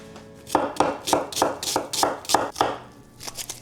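A kitchen knife chopping carrots on a board while cooking pork chops and apples, about a dozen crisp, evenly spaced cuts, close and clear with no talking.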